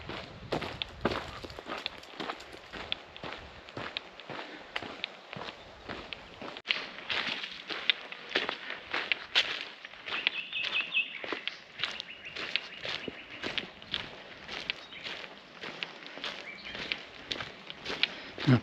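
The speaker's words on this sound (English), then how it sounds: "Just more footsteps and the sound of the birds." Steady footsteps crunch along a coastal trail on Menorca's Camí de Cavalls (GR223) at a walking pace while birds chirp and sing faintly in the background.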